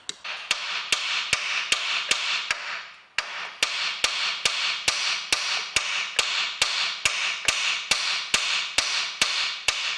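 Hammer blows drive a wheel bearing on a 2008 Ford Mondeo, about twenty sharp, evenly spaced strikes at a brisk rhythm with a brief pause midway, loud and close with nothing else heard.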